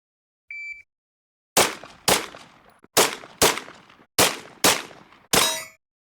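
Seven sharp pistol shots from a GL0NK 17L fire in quick succession over about four seconds, each loud close crack followed by a short ringing decay, after a brief electronic beep; no talking.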